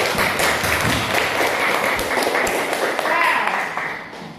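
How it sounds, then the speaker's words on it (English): A class applauding in a classroom lesson, with a dense, steady wash of many hands clapping close by, talk mixed in, fading slightly toward the end. "I say thank you and give applause for all of us here."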